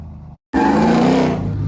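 Loud, close roar of a RAM TRX truck engine running through a straight-pipe exhaust, a brief silent gap then a sustained heavy rumble with a steady droning tone, alone without talk.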